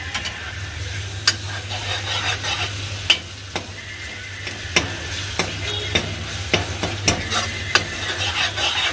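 Onions frying in a pan with ginger-garlic paste, stirred steadily, giving a continuous sizzle with sharp scraping clicks from the spoon at irregular intervals over a low background hum.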